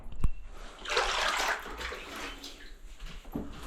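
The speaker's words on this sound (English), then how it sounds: "Bit of water, keep the dust down." Water poured onto the work to keep dust down while cutting during a DIY tiled niche build, a steady close splashing and sloshing rush lasting a few seconds after a sharp knock.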